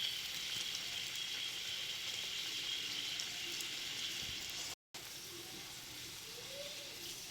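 Pineapple chutney with raisins bubbling in sugar syrup in a pot, a soft steady simmering hiss and faint crackle that runs throughout, broken once by a brief gap of silence.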